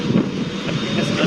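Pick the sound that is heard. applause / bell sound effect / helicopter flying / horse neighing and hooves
helicopter flying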